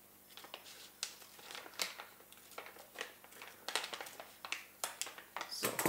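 A silver foil coffee bag is trimmed and crinkled by hand near its welded seam for a craft rose, giving sharp irregular rustles and crackles in bursts, fairly close, with no talking.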